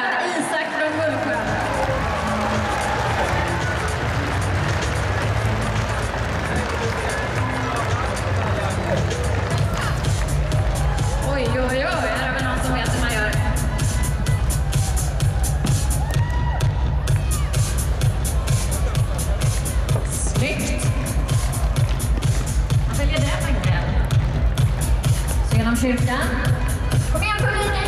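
During a hinderbandy final at Globen, Stockholm, in 2017, an arena crowd cheers steadily for a young player while an announcer talks over the sustained roar and scraping action on the rink.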